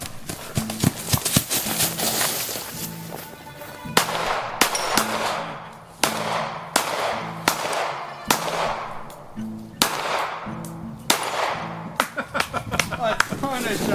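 Rapid bursts of gunshots ring out during a cold-start shooting drill at a range, sharp loud reports in quick clusters repeating throughout, with brief pauses between strings and some voices under the firing.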